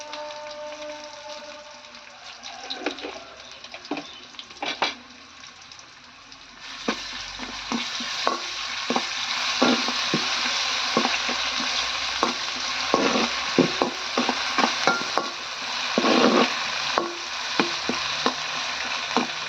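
Ginger garlic paste fries in a pan with a steady hiss that swells loud partway through, broken by frequent sharp clicks and scrapes from stirring; no one speaks.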